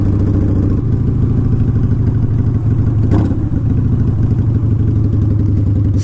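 A fuel-injected 2004 Harley-Davidson Softail Standard engine runs steadily and close by, a loud throbbing low rumble with even pulsing and a brief rev near the middle, with no talk.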